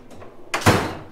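A socket drawer on a Snap-on tool chest in a diesel tech college tool room slides open with a short rolling rush that ends in a solid metallic thunk, close and fairly loud.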